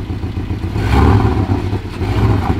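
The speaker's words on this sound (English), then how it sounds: "Just rev it a bit, Laura." Porsche 718 Cayman GTS with a 2.5-litre turbo four-cylinder revving, a steady, loud, rumbling engine note that swells briefly to a peak and then holds at a slightly lower level.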